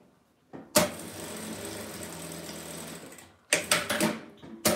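A sewing machine stitches fabric strips cut from scraps, a loud steady mechanical whir that runs for a few seconds, stops, then resumes in short bursts close to the listener.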